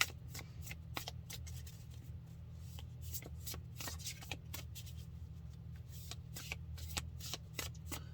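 Cards being shuffled over and over, a steady run of quick riffling bursts close by, with a low hum underneath and no talking.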